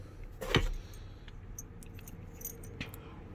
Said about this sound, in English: Got the keys